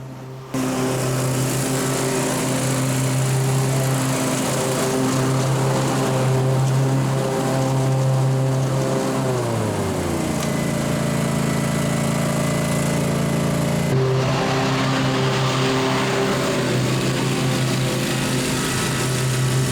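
A Cub Cadet lawn mower cuts grass at a steady, close, loud engine drone with no pauses; the pitch drops and shifts midway as the load changes, then settles again, and no one speaks.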